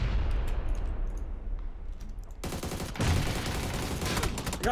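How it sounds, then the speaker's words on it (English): Gunfire in PUBG on the Sanhok map: a dense burst of shots rings out, quieter and muffled at first, then a louder sustained volley through the second half. "I hear shots."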